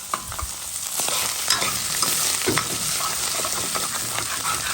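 Rougail of three cousins frying in a pot while being stirred and scraped off the bottom: continuous near sizzle with repeated utensil clinks and scrapes, no speech.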